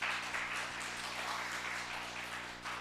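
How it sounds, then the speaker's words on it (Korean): Sustained applause from a church congregation fills the room, a dense, even patter of clapping that holds steady throughout over a low hum. "박수 한번 쳐주세요."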